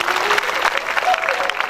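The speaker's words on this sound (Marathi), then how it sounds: "यांच्याकरता सुद्धा जोरात टाळ्या झाल्या पाहिजे" Audience at a Shiv Puran religious discourse clapping, a dense brief burst of applause from a crowd with a voice speaking over it.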